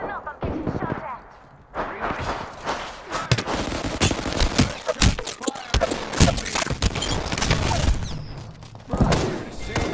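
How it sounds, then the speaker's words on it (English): Gunfire in a video game crackles in rapid bursts and thuds, close and loud, with a voice talking over parts of the shooting. "Listen up, I'm getting shot at."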